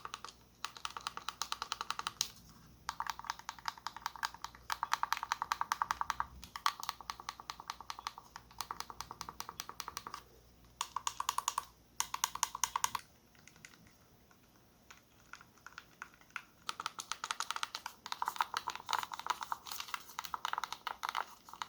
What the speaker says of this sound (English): I'll let you listen to the buttons and the D-pad real quick